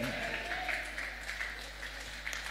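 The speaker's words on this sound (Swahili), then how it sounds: "Makofi ya sifa kwa Yesu" Church congregation clapping in praise during a worship service, a steady dense wash of applause sustained throughout with a faint background hum.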